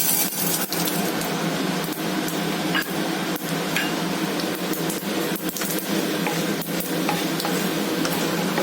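Urad dal and chana dal frying in oil in a pan, giving a steady, dense sizzle with faint scraping and ticking from stirring, close and fairly loud, with no voices.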